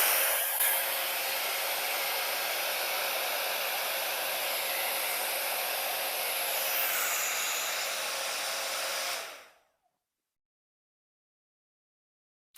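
A hair dryer blows steadily over acrylic pour paint in a Dutch pour, a loud continuous airy roar that holds for about nine seconds and then cuts off abruptly into silence.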